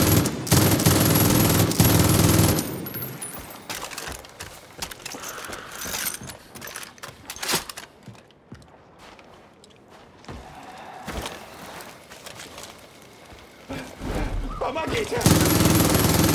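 Gunfire in the video game Far Cry New Dawn: rapid shots and a mechanical clatter ring out, loud at the start and end and quieter in the middle, with game voices talking over parts of it.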